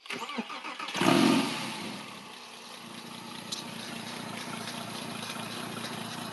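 A freshly assembled Porsche 911 engine cranks and catches, roaring to life loudly, then settles into a steady, rough idle that runs on continuously.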